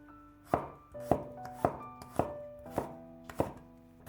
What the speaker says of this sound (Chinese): 先切成蒜片，